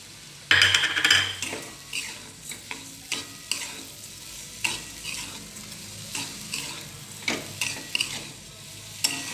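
Sugar and semolina being sautéed in a pan for Satyanarayan puja prasad: a spoon scrapes and clinks against the metal in irregular sharp strokes over a low sizzle, close by, with no talking.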